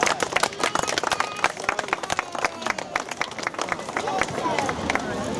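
A crowd claps for the winning youth football teams at a tournament closing ceremony, with sharp, dense applause that grows into a steady roar of clapping, and voices mixed in.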